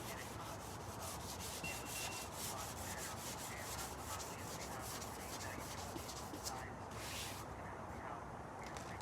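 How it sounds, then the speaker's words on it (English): Sandpaper rubs over wet primer in quick, steady back-and-forth strokes, a close, continuous scratchy hiss that eases near the end. "I'm just taking another sandpaper to clear out the primer that's packing up"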